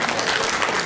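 An audience breaks into loud applause at the close of an evening event, a brief, dense burst of many hands clapping together.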